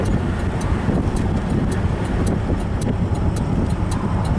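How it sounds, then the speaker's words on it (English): Turn signal on a 1967 Pontiac Grand Prix convertible ticking in a steady, evenly spaced rhythm of sharp clicks over engine drone and wind noise while driving. "Turn signals work"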